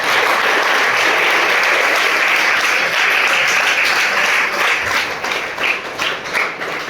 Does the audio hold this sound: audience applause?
yes